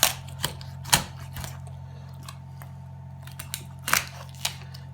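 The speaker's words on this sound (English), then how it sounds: "Use a nice strong knife. And cutting through bones, so don't be afraid." Strong knife cutting through a turkey's backbone bones, a series of sharp crunching snaps and cracks at irregular intervals against a steady low hum, close and fairly loud.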